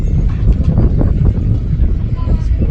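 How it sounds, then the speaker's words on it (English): Gusts of wind buffet the microphone, producing a low, rumbling roar that swells and fades unevenly throughout. "It's windy."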